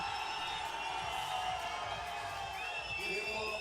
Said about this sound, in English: Crowd goes loud again, means another Chilean rider on track